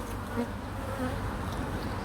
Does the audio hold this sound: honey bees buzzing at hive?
yes